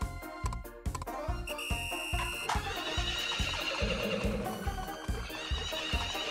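In the video game Story of Seasons, a horse neighs loudly and hooves pound in a fast, regular rhythm, with bright game music and chimes layered over the galloping.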